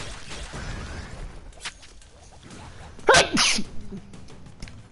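A single sharp sneeze bursts out loudly over quiet background noise while playing the video game Broforce, followed by a brief exhale.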